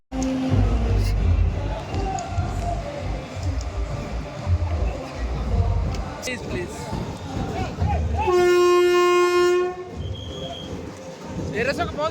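A train horn on the new Nandyal–Markapuram service gives one sustained blast lasting a little over a second amid a noisy crowd at the inaugural run, with people talking nearby before and after.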